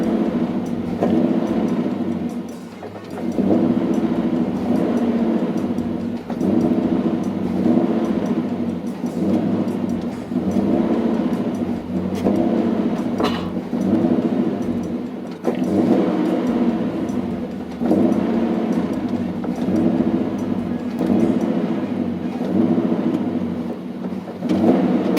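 A vehicle engine idling roughly and unevenly inside a garage, struggling to keep running and refusing to go into gear, a steady loud drone with wavering dips throughout.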